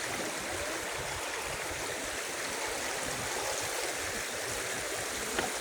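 River water in Norzagaray, Bulacan rushes steadily over stones, a loud, continuous broadband wash that fills the whole stretch with no pauses and no talk.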